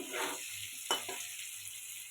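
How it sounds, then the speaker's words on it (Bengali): Potato pieces frying in hot oil in a Bengali home kitchen, giving a soft, steady sizzle with a brief sharp crackle midway. "আলুটা ভেজে নিব।"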